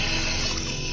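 Water runs from a tap in a steady, dense rushing hiss, loud and close, lasting about a second with no voices.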